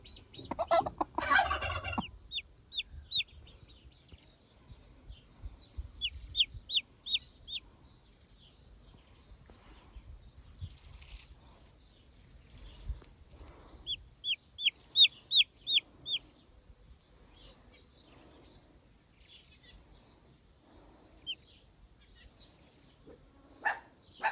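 A hen with newly hatched chicks clucking in a rural yard, soft scattered clucks and short bursts of rapid high chirping repeated across the stretch, with faint rustling between calls.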